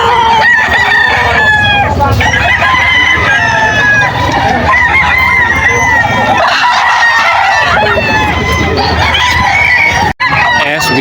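Stag roosters crowing amid a loud, crowded chicken market in Bocaue, Bulacan, with several overlapping crows and clucks over a dense background of voices and bird noise.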